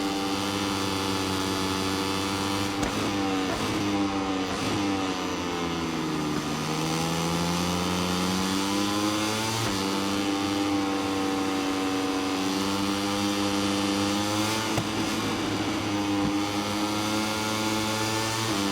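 A Moto3 motorcycle engine in MotoGP 24 on the Thailand International Circuit drones at steady high revs, its pitch sliding down and climbing back up through gear changes and corners, continuous and prominent.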